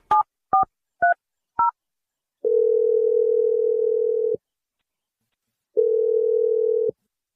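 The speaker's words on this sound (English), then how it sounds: "I'm just going to dial her number." Four quick touch-tone beeps as a number is dialed, then two long ringback tones separated by a pause, clean and close.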